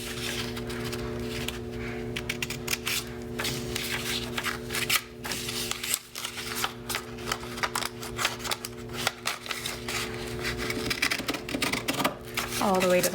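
Scissors cut along a line through folded paper in a series of close, crisp snips and rustles, with a steady background music bed underneath.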